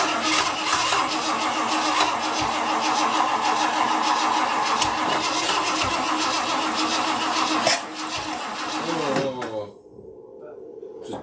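A 1975 Ford F100 engine cranks and runs roughly, a loud, steady, close-up churning roar with uneven sputters, which then winds down and cuts out near the end, leaving quiet; voices are heard alongside.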